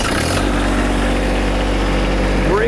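A tractor engine turns over and catches, then settles into a steady, loud idle with a continuous low drone and faint higher whine; a hydraulic loader rig is nearby.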